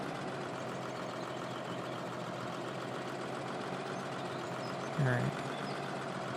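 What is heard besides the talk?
tractor engine idling in Farming Simulator 2013 video game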